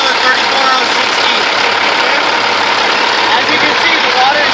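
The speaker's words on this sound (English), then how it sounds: "this is a healthy running Caterpillar 34060" A healthy Caterpillar truck engine idles loud and close, a dense, steady broadband roar with no change in pace throughout.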